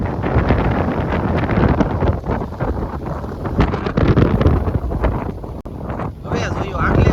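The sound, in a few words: strong wind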